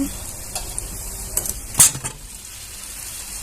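Dahi vada fry gently in oil over a low gas flame, giving a faint, steady sizzle with a few soft clinks and stirring sounds, with no talking.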